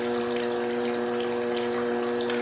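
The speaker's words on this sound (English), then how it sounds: "now you can see the water is coming down from the two pipes and going up from the one tube" Water runs continuously through the pipes of a potter's wheel converted into a flat lapping machine, a steady close gushing flow with a constant motor-like pump hum underneath and no speech.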